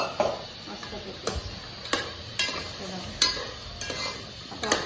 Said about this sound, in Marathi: आता हे मटण सगळं याच्यामध्ये टाकून घ्यायचं मस्तपैकी।